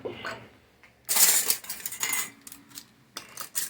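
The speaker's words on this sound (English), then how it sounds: "All right, lids on, bands down tight." Metal lids and bands being put on glass canning jars of homemade sauerkraut, a series of close clinks, taps and twisting scrapes in short bursts with quiet gaps between.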